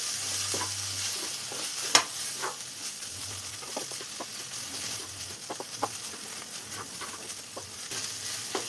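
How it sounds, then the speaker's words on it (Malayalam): Fish peera, a dry mix of fish and grated coconut, is stirred and tossed in a hot pan, with repeated spoon scrapes and taps over a steady close sizzle of frying. "ഇനി ഇതെല്ലാം കൂടെ നന്നായി ഒന്ന് ചിക്കിയെടുക്കണം"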